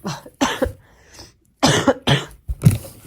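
Several harsh coughs in bursts, close and loud, with short quiet gaps between them.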